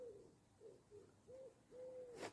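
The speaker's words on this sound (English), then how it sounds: "It's a wood pigeon." Wood pigeon cooing outside an open window, a soft low rhythmic series of four or five hoots at moderate distance, the last call drawn out and ending in a brief faint clatter.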